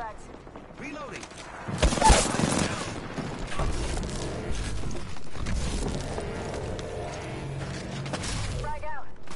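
Reloading and bursts of gunfire during an Apex Legends firefight, with clanking weapon mechanisms and thudding shots piling up over a few seconds, mixed with game sound.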